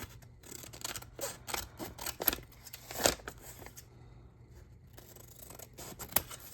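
Scissors trimming junk mail envelopes into pockets, a close run of quick snipping and rustling paper cuts in uneven bursts, fairly quiet.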